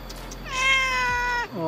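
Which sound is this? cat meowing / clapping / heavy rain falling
cat meowing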